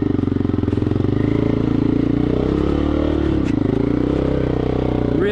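Motorcycle riding offroad on a muddy trail, a steady close engine drone with wind and rattling clatter throughout, no talk.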